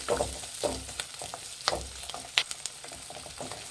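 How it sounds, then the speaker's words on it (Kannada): Onions and garlic fry in a pan with a moist sizzle, while a spoon scrapes and stirs in uneven strokes, producing several sharp clinks against the metal. "ಒಂದೆರಡು ಈರುಳ್ಳಿ ಇದ್ದೀನಿ ಫ್ರೈ ಮಾಡಬೇಕು"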